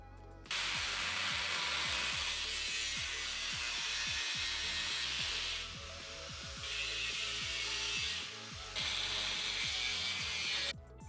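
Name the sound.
cutting into station wagon inner fender well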